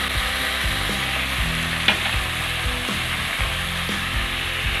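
Ginger garlic paste sizzles loudly in hot oil with mutton mince, frying continuously near and close with a steady crackling hiss, scraped now and then by a spoon stirring the pan.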